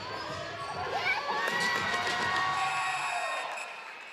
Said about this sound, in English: I think the crowd is probably gonna go crazy